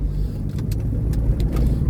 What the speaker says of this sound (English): This Volvo I'm driving is a 91.